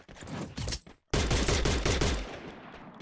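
Rapid gunfire in the mobile battle game Free Fire Max, loud close bursts of overlapping shots that stop briefly and then resume heavier, with no talk.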